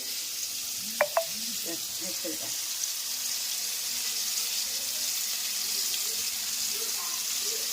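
Flour-coated strips fry in homemade oil with an even, steady sizzle, while a few faint voice-like sounds come early on and fade, leaving the hiss to carry on alone.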